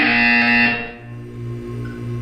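A harsh electronic buzzer in Portal 2 blares for under a second, then gives way to a lower, steady droning hum.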